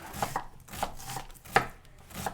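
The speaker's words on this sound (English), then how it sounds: "we turn it, and then we just make some downward cuts." Knife chopping an onion with downward cuts on a cutting board, a series of sharp, close taps in an uneven rhythm, roughly six distinct chops with quiet gaps between.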